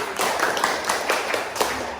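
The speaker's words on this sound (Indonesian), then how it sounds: "Untuk Silvi juga tadi tepuk tangan untuk Silvi." Bursts of hand clapping from a small group, several quick rounds of claps at a steady moderate loudness with no talking.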